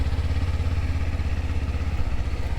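A motorcycle making a slow U-turn through practice cones, its engine chugging steadily and loudly up close with a low rhythmic putter and slight throttle variation.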